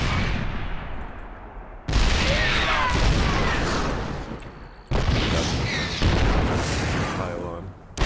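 Terran siege tanks in StarCraft 2 shelling Protoss photon cannons, two heavy booming volleys with crackling explosion debris, each fading out before the next loud blast hits.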